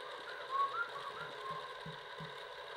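An RC car ball differential is broken in at a slow, consistent speed, giving a faint, quiet mechanical whir with regular soft ticking throughout.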